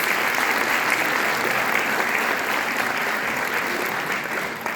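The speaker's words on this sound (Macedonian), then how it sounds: "Да ги поздравиме со еден аплауз." Sustained applause from a large audience at the opening ceremony of a folk ensemble's 70th anniversary in Veles, dense and even throughout, tapering slightly at the end.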